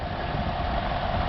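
Steady engine idle from a GMC truck, heard at the exhaust pipe with its four exhaust runners, giving a constant low rumble with hiss, close and even, with no pauses or talk.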